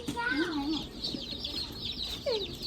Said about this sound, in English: So we're gonna check out these chicks and see what we got.